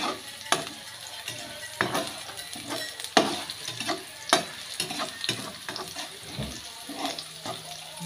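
Onions frying with shrimp paste (alamang) sizzle steadily in a pan while a utensil scrapes and stirs in irregular knocks, close and moderately loud, with a brief splash of running tap water.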